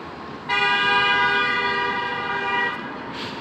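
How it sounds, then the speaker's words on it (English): A car horn sounds loud and close on a street, one sustained blare of about two seconds as a car passes near, with outdoor background noise around it. "That car almost hit me."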